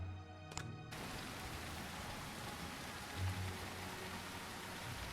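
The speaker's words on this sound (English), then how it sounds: "it's raining hard. Okay, they definitely adjusted the rain volume." Heavy rain falls in a swamp area of The Isle, a dense, constant hiss of downpour filling the whole stretch, with a faint low rumble partway through and no voices.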